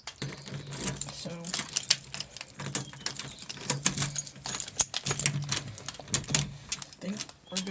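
Keys jingle and clatter in irregular metallic bursts while someone locks up a hospital staff area, close to the microphone, with a person talking over the sounds.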